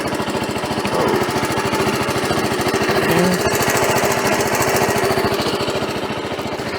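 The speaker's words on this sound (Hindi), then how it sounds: "कुछ इस तरह है बाइक का एग्जॉस्ट नोट।" Steady exhaust note of an idling TVS Apache RR310 motorcycle, a close, loud and evenly throbbing beat that holds constant throughout with no talking.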